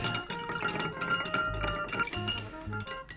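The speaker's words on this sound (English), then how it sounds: "we give it a good stir to dilute it and make it cold" Ice clinking and rattling in a glass as an Old Pal cocktail is stirred with a bar spoon, close and continuous with bright tinkling taps.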